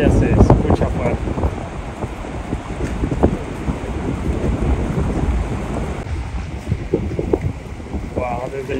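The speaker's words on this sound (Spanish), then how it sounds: "Vientos cada vez más violentos, amigos. Bueno, nos vamos a refugiar porque entramos a la tormenta." Stormy weather on the Amazon river in the Peruvian jungle, with violent wind gusts buffeting the microphone and low rumbles of thunder over a steady roar, heard from aboard a riverboat, continuous and loud throughout.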